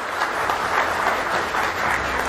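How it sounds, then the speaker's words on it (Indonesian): Steady applause from a studio audience at a televised political debate talk show, dense clapping holding an even level throughout with no voices over it. "Tepuk tangan buat Mbak Grace Natali."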